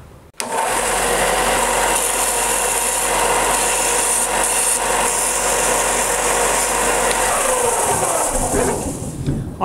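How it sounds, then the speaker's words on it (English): A power sander grinds steadily at metal wings being shaped for a topwater crawler fishing lure, a loud, continuous abrasive whine running nearly unbroken for about nine seconds before cutting off. "Let me go out to the power sander and get this thing shaped in"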